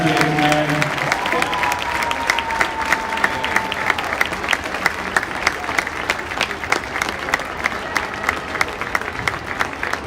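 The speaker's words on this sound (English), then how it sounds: "One more round of applause for Mr. Ben Glucka, ladies and gentlemen." A crowd at a basketball game applauds in steady, dense clapping that lasts throughout, with an announcer's voice over it.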